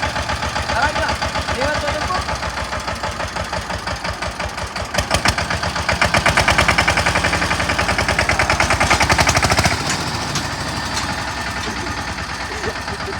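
A tractor's diesel engine chugs loudly and continuously in a rapid, steady thumping rhythm that swells briefly, then settles back.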